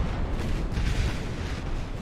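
A naval gun shell striking a ship in the Ultimate Admiral Dreadnoughts video game, heard as a heavy, rumbling low boom that swells and holds across the moment without a sharp onset.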